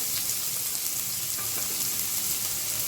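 Chopped onion frying in a pan over medium heat, a steady, even sizzle with faint crackles running throughout, close up and with no talking.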